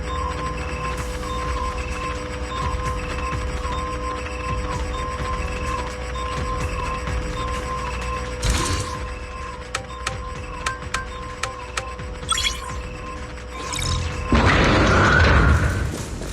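Elevator machinery in the Zenless Zone Zero video game, a steady mechanical hum with scattered clanks and thuds, ending in a louder rumbling rush over constant background tones.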